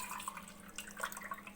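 Water is poured over washed rice and moong dal for khichdi, a quiet, close trickle and splash with small irregular drips.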